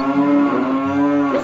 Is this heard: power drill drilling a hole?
no